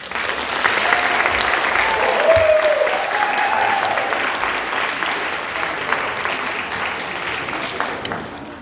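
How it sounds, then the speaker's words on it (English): A conference audience gives a warm round of applause that swells, holds dense and steady, and then tapers slightly toward the end, with a faint voice briefly audible. "Please join me in a round of applause and for a warm welcome for Dr. Galbis-Reig."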